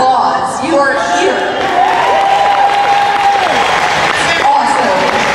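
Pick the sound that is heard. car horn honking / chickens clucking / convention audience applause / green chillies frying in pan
convention audience applause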